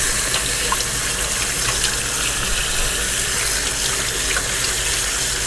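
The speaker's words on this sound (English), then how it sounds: "I then take it and put it underneath the water in the kitchen sink." Kitchen sink tap runs in a strong, constant gush over black walnuts in a colander, close and loud with a steady splashing texture throughout.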